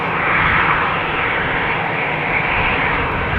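KLM Embraer 190 jet approaching, a broad continuous engine roar that holds loud and steady, close to the listener.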